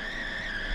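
Wheels of a vehicle in a car-crash simulator game give a steady, fairly quiet skidding, squealing tire noise that runs without a break through a short moment.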